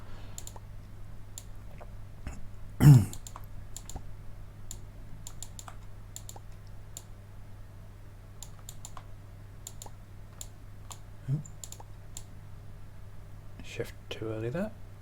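Soft keyboard and mouse clicks scattered through Minecraft play, with a sharp louder click burst near the start and a few more clicks later, over a steady low hum.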